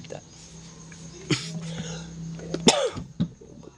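A couple of short, sharp coughs break through a quiet room with a faint steady hum and some low voices.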